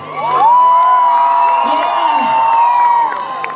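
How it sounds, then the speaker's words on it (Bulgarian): A crowd cheers and whoops for dancers at an outdoor event, with a high whistle-like call rising over the steady roar. The noise stays loud and unbroken for the whole stretch. "Искам супер сини аплодисменти за Бубето и Рали."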